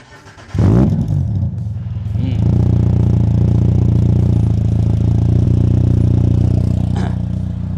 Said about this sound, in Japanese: 吹かすとうるさいんでアイドリングだけできます